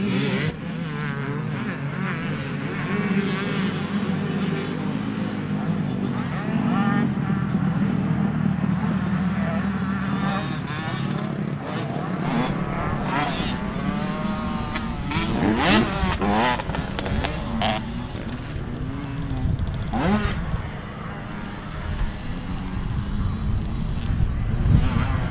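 Two-stroke motocross motorcycles race around a dirt track in an open-class event, their buzzing, revving engines rising and falling over a long stretch while a commentator talks over the noise.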